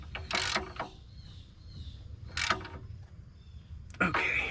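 A ratchet being worked in several short bursts of clicking while tightening the donut gasket on the catalytic converter of a 2011 Nissan Altima 2.5, with quiet shop ambience between the strokes.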